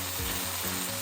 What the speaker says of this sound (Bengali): আমার হচ্ছে ঢেঁড়স ভাজা সুন্দরভাবে